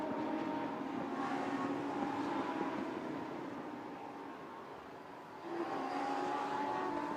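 Lamborghini Super Trofeo race cars at the Nürburgring, a sustained loud engine roar that dips slightly mid-way before rising again as the cars head downhill into a hairpin.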